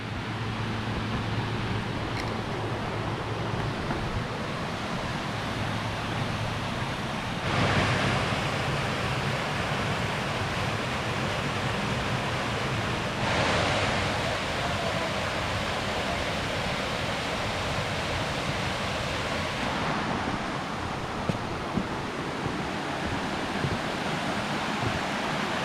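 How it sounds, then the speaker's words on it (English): Water rushes steadily along a forest creek with small waterfalls. It makes a constant broad hiss for the whole stretch, with a few louder swells and faint background movement. "Can hear the water."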